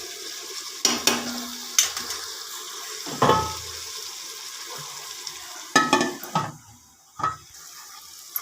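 Tomatoes cook in a pan for mutton gravy, a soft steady sizzle broken by several louder stirring scrapes and clatters, close by with no talking.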